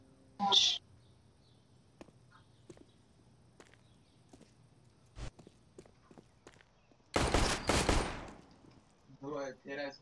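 Gunshots in CS:GO, a sharp shot early, then a loud close burst of rapid fire later, amid quiet footsteps and ticks, with someone briefly talking near the end.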